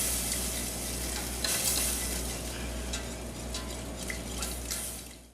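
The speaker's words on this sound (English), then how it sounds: "keep adding your milk and whisking away here" Milk being whisked into flour in a pan as it thickens, a continuous soft sizzle and bubbling with light whisk scraping, close and fairly quiet, with no talk over it.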